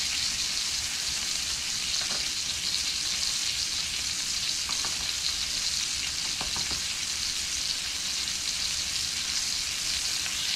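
Rabbit meat pieces browning in a hot pan give a steady, dense sizzle and fry crackle that runs unbroken at close range, with a few faint clinks of the pan and no talk.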